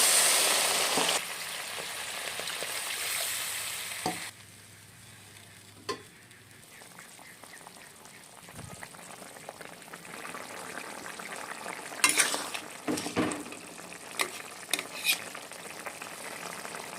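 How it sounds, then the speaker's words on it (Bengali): Water goes into a pan of frying khoira fish curry with eggplant. A loud, sharp sizzling hiss lasts about four seconds and then drops suddenly to a quieter simmer, with occasional stirring clatter and scrapes. "এখন দিয়ে দিচ্ছি জল এর মধ্যে"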